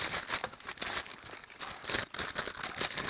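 Packaging paper crinkles and rustles up close while an order is packed, a continuous crackling with louder bursts of crumpling throughout.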